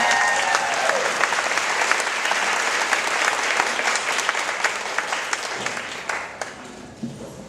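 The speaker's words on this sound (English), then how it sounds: "can we get a giant round of applause for Lisa Hayes for putting this all together?" A crowd gives a big round of applause at an event honoring an organizer, dense clapping filling the space steadily before thinning out near the end.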